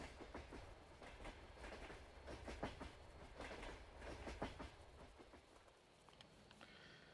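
A train in the Western Wilds video game rolls past with a steady rhythmic clickety-clack of wheels over rail joints, moderately close, then fades slightly toward the end, with no talking.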